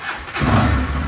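A motorcycle engine catches and starts, rising from a low rumble into a loud, sustained rev right up close, with no voices over it.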